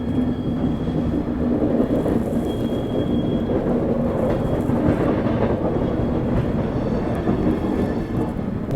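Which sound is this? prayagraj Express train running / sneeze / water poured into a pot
prayagraj Express train running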